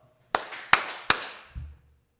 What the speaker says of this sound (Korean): 박수 3번!